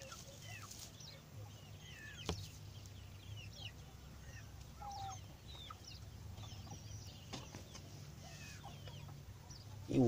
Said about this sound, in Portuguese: No terceiro, tem uma galinha presta a botar ovo.